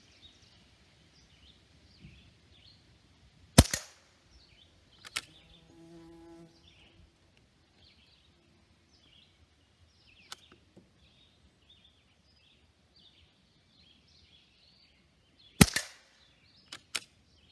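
A QB78 .22 caliber air rifle fires Grizzly pellets: two sharp, loud cracks a few seconds apart, with faint clicks and mechanical handling between them, over near-silence with insects buzzing softly outdoors.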